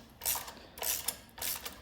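Allen key and wrench cranking down a bolt on a titanium license plate bracket for a GY6 scooter, three quick ratcheting bursts of close, crisp clicking with brief pauses between them.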